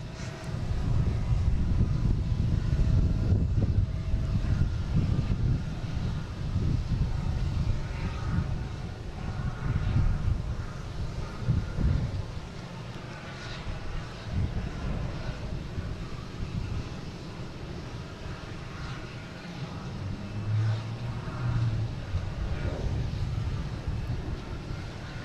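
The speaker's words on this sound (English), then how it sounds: "Today 321 Neo. See that in a second, taking off." A JetBlue Airbus A321neo takes off from Boston Logan with a steady, broad jet roar heard from a distance, sustained and rumbling with wind noise mixed in.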